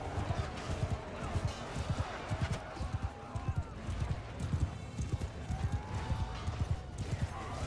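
Horse hooves clip-clop rapidly and unevenly in the medieval battle game Mount & Blade 2: Bannerlord, a busy galloping rhythm throughout, with faint background battle noise.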